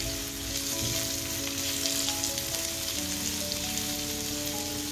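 Sliced onions sautéing in a pan, cooked as the first step of a pakbet. A steady, dense sizzle of frying runs close and continuous throughout, with no talking.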